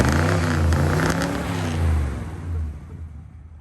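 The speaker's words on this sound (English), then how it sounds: "I put baffles in the muffler, so when it gets a lot of pressure, you can actually hear it." Car engine with a dual exhaust and baffled muffler revs up loudly and close by, holding a deep throaty roar through two swells before easing off and fading toward idle.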